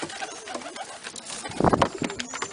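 Pigeons cooing in a loft, several low throaty coos rising and falling close by amid soft rustling and other bird sounds, with no talk.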